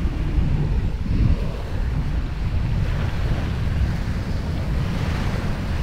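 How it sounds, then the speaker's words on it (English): Sea waves break and wash along the shore at Carabao Island, a loud continuous roar of surf mixed with buffeting wind noise on the microphone, no voices. "Dip my feet in the sea."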